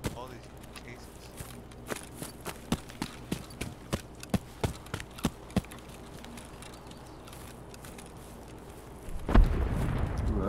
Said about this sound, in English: Ooh, that's a big explosion.